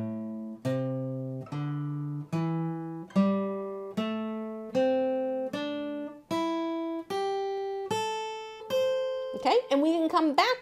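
An electric or acoustic guitar plays a minor pentatonic scale from the top, with single plucked notes ringing one after another in a steady rising sequence, ending in a brief strummed flourish. No talking.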